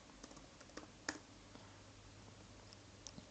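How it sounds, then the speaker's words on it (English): Keys tapped out in a short, uneven run on a computer keyboard while a password is entered, faint light clicks with one sharper tap near the middle, in a quiet room. "you go ahead and type your password in"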